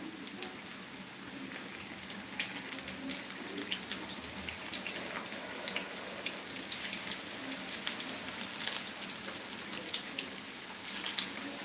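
Tap water runs steadily into a sink as hands are washed, a continuous close splashing hiss with small drips and spatters throughout, with no voices.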